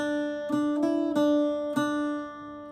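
Irish bouzouki picks out a changed ending phrase from Sí Bheag, Sí Mhór: four plucked notes that ring on over a sustained drone, near and unaccompanied.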